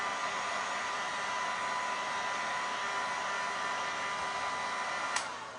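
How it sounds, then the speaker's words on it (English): A craft heat tool blows steadily over a waxed vintage Christmas tag, a constant close whooshing hum that keeps an even level for several seconds before cutting off, with no talk. "since I'm getting my heat tool out, let's just real quick give this a zhuzh"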